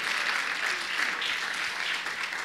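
A congregation claps loudly and steadily for the Lord during a Spanish-language church sermon, a dense, even wash of applause that fills the whole moment without any talking.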